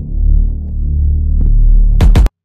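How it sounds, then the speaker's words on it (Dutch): A deep, throbbing bass line in a spacey R&B beat production hums steadily and loudly, with a few quick clicks near the end before it cuts off abruptly. "En dit is het geluid van de bas."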